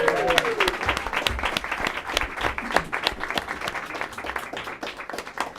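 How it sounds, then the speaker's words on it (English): Audience applause fills a school board of education meeting, honoring Rialto High School PBIS award winners; steady, dense clapping from a crowd holds at even strength throughout, with faint voices mixed in. "Let's have another round of applause for our Rialto High School PBIS winners."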